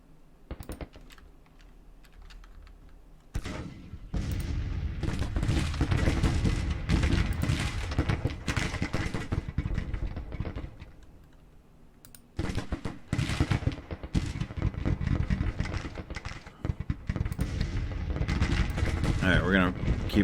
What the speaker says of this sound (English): Let's try and hit that battery with our small arms fire.